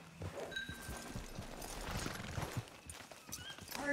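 Horse hooves clip-clopping alongside neighs and whinnies in the open-world Western game Red Dead Redemption 2 Online, steady and fairly close, with ambient game sounds around.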